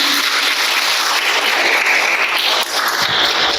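Audience applause closing a Ramadan religious programme, a dense, steady wash of clapping that stays even and fairly loud from start to finish with no voices.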